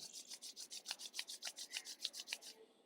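Two palms rub briskly together during a yoga sadhana session, about fourteen quick, even strokes close to the listener before the friction stops abruptly. No one speaks.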